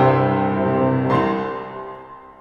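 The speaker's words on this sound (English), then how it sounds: "I will be playing the piano today." Solo piano notes ring out loud and close with a rich sustained tone, a fresh chord struck about midway, then the sound slowly decays.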